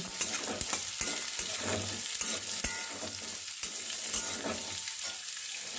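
Potato pieces fry with spices in a pan over medium heat, a continuous loud sizzle broken by sharp clinks and scrapes of stirring, heard up close with no voices.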